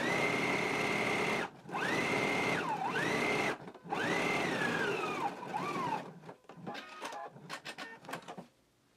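A sewing machine stitches down the front placket of a Simplicity 8889 shirt in three sustained whirring runs with pitch sweeping up and down, separated by brief pauses, then a flurry of short clicking bursts.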